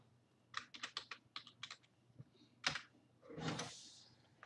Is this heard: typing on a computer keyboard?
yes